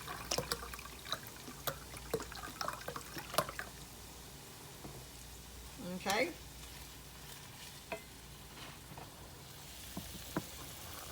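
Cabbage sizzles and crackles in a skillet, a steady low frying hiss with scattered sharp pops and a louder burst of spitting partway through, close by and with no talking.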